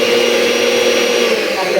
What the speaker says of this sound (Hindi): अब ये जो मिक्सर ग्राइंडर इसको भी हम चालू करके चेक कर लेते हैं।